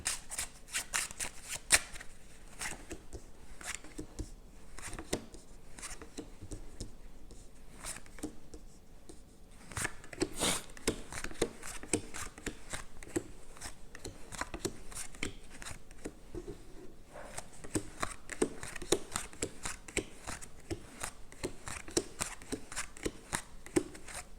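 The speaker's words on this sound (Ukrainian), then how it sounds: "зараз я розкладу карти" Repeated crisp tarot card riffles and slaps, close and steady, continuing for a long stretch with no voices.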